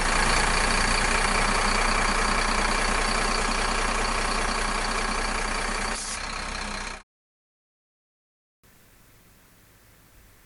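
RV diesel engine with a Pacbrake PRXB exhaust brake idling during a leak test, a loud steady broadband rumble for about seven seconds that drops slightly, cuts to silence, then returns much quieter.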